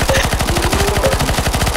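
Rapid automatic gunfire in the video game CS:GO Zombies, a loud, fast, evenly spaced burst of shots that continues without pause from start to finish.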